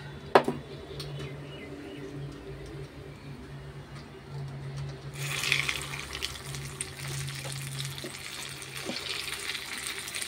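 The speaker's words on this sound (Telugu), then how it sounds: "చిన్న మూకుట్లో చిన్న చిన్న బజ్జీలు వేస్తున్నాను చూడండి." Small bajji fritters frying in oil in a small pan, a steady close sizzle with a sharp clatter near the start and the frying growing brighter and louder about halfway through.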